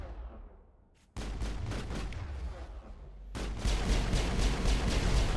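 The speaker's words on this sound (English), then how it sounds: "What are these things shooting at me?" Dense, continuous gunfire from enemies in the Mass Effect video game, loud and sustained with rapid overlapping shots and booms, briefly dropping before resuming even heavier.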